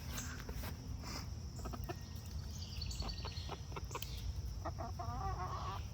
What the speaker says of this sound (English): They're whiny. Whiny chickens.